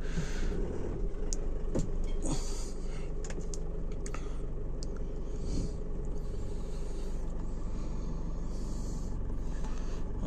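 An Isuzu V-Cross 2.5 pickup truck's diesel engine runs with a steady, lorry-like clattering rattle that stays loud and constant throughout, with a few faint ticks and clicks on top.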